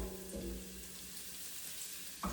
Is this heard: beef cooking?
yes